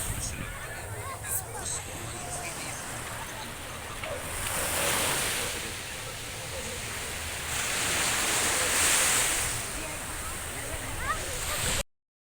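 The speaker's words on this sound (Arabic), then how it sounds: "صوت البحر." Sea waves wash in a broad, steady roar at the shore, swelling twice into louder surges, with wind buffeting the microphone and a voice speaking briefly over it.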